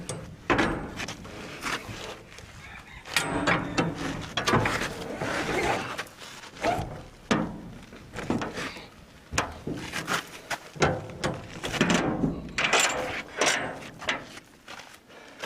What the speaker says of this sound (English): we're going to shut that door, hopefully.